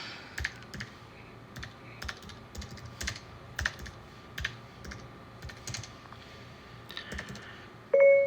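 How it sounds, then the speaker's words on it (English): Fast typing on a computer keyboard, close and fairly quiet, with irregular bursts of key clicks and short pauses; no one speaks. "I'll type it up."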